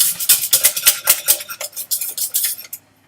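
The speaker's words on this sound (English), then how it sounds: "then add the rest of the milk, and stir gently until it's combined" Metal spoon stirring milk into a white sauce in a pan, a quick run of bright clinking scrapes against the pan sides, close and rhythmic, easing off into quiet.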